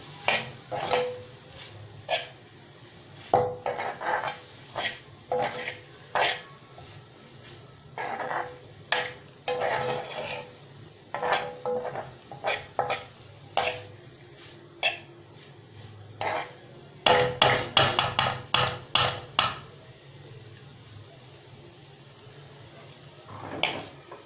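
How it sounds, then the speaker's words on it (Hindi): A spoon stirs a masala mixture for pizza pinwheels, scraping and clinking against a pan in irregular bursts, close and fairly loud with brief pauses between strokes. "अब इसको अच्छी तरह से मिक्स कर लें सारे मसाले को।"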